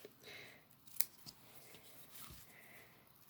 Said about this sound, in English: Now we'll trim off these edges because they're a little bit too long.